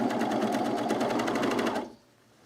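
An overlock serger runs in one steady, loud, fast-stitching whir while tidying the seams of a color block top with piping, then stops abruptly near the end.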